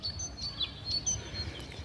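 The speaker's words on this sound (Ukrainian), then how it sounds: "Тут так пташки співають." Birds singing outdoors in a park-like meadow where people stroll and rest, giving several light, high chirps and trills over a faint, steady background of low rumble.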